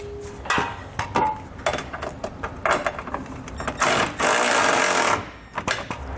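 Four trailer hitch bolts are snugged down inside the frame of a 2021 Honda CR-V with an 11/16 inch socket, giving close, uneven bursts of rattling ratchet and metal clicks.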